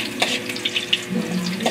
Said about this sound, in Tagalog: Gisa muna tayo ng bawang.